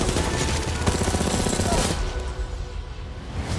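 A rapid burst of automatic gunfire from a Titanfall 2 gun in Apex Legends, a dense run of shots that rattles on, then shifts and thins toward the end.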